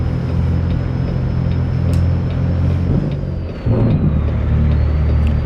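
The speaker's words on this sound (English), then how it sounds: "It's a nice engine in this truck." A heavy truck engine in American Truck Simulator, a loud, steady low diesel rumble that drops briefly and then returns with a deeper, stronger note, with no talking over it.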